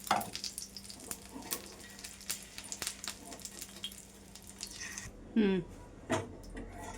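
An egg omelette with onions sizzles in a pan, a soft continuous crackle with scraping and stirring clicks, then quieter toward the end as a voice talks over it.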